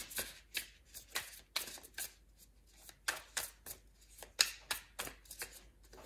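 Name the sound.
tarot cards being shuffled and drawn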